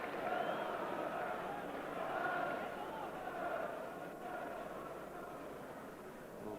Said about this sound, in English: So applause for both players.